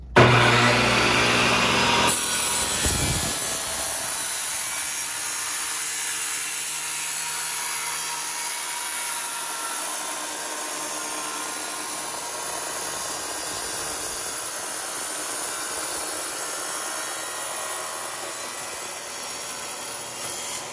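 iQ228 Cyclone dustless saw making a 12-inch cut, starting with a loud motor whine that settles into a steady, sustained cutting drone for the rest of the stretch, no talk.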